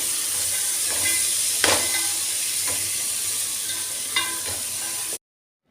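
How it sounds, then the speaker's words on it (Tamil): Chopped vegetables for vegetable biryani sauté in a pressure cooker with a steady loud sizzle, broken by a few sharp spoon scrapes, before the sound cuts off abruptly. "ஒரு 2 நிமிஷம் நல்லா வதக்கி விட்டுக்கலாம்."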